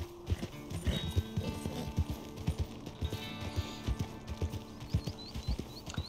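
Horse hooves clip-clopping as a rider travels in the video game Red Dead Redemption 2, a steady, close rhythmic trot with creaks and faint tack noise, sounding alone throughout.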